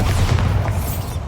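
A Bombarda explosion spell in Hogwarts Legacy goes off inside a small mine as a heavy, close boom with a rumbling tail, loud and alone for just over a second.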